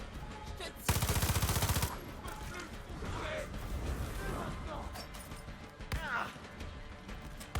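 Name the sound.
gunfire in the video game Far Cry 6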